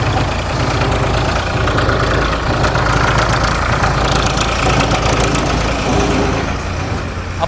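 A vehicle engine idles close by, a loud, steady, unbroken rumble with a faint knocking texture that holds evenly for several seconds with no talk over it.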